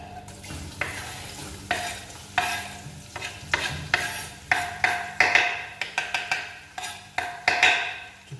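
Onions are stirred in hot oil in a pot, giving a steady sizzle broken by rhythmic scraping strokes, close and clear with no talking.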